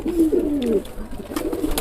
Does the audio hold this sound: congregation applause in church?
no